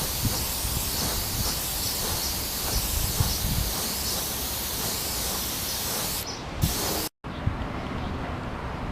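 Clear coat being sprayed onto a motorcycle fairing in a paint-crack repair, a steady close hiss of the spray gun running almost without a break before a short pause and a restart.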